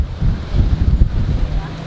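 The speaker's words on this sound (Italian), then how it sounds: "C'è tanto vento, c'è tanta sabbia" Strong wind buffets the microphone near a sandy canyon in Madagascar, a heavy low rumbling roar with gusty surges, loud and close throughout.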